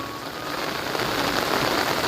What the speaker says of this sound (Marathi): मुसळधार पाऊस सुरू झालो आणि आता दोन दिवस तर भयानक पाऊस